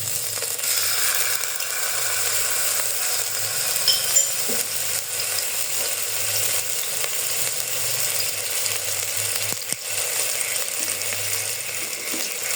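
Ginger-garlic paste frying in a pan for keema puff patties, a steady bright sizzle with faint stirring scrapes and clicks throughout.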